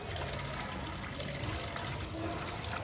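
Steady rushing water pours continuously from a pipe, a broad noisy gush that stays even and close for the whole stretch, with no voices.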